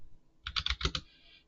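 A computer keyboard clacks through a quick run of about six keystrokes in under a second, close and distinct against near silence, ending with a faint trailing tick.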